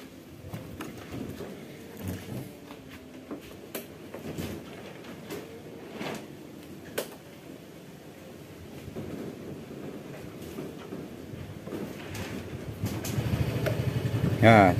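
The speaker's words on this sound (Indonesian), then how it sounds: "Oke, kita hidupkan motornya dulu." A Yamaha Fazzio scooter with a weak, often-draining battery cranks and starts, its low engine rumble rising and settling into a steady idle near the end, following quieter handling sounds while someone talks.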